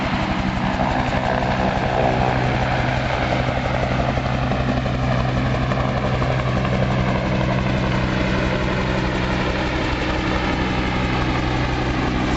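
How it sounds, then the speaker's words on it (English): A helicopter's engine and rotor drone loudly and steadily nearby, a constant low thrumming whine with no voices. "until after the helicopter lands"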